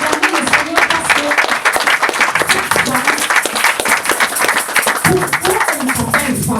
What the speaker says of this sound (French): Nous allons acclamer le Seigneur pour cette femme.